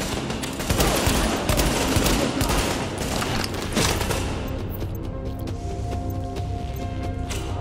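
Dense automatic gunfire in The Division, a continuous loud barrage of rapid shots and impacts that thins out toward the end into scattered distant bursts.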